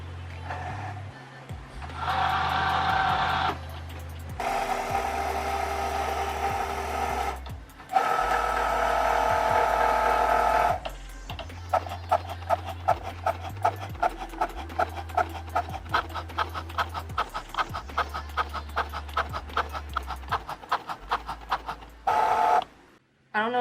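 A printer runs a print-and-cut calibration page: motor whirs and sliding passes, then a long stretch of rapid, regular mechanical ticking as the page feeds, close and fairly loud.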